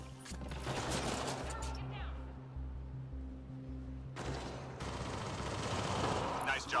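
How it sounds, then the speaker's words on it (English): Enemies fire on the player in Mass Effect Andromeda multiplayer: bursts of rattling gunfire at the start and again near the end, with a pulsing low rumble and a player's voice in between. "They're shooting!"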